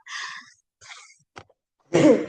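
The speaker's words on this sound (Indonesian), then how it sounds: "saya bersin" A single sneeze bursts out sharply near the end, close and loud, after a few soft breathy sounds and short pauses in a quiet indoor room.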